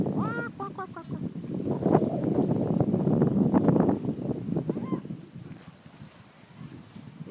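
Seagulls on perches at Wildwood Park in the evening give several squawking calls over steady wind noise, close and fairly loud, fading toward the end.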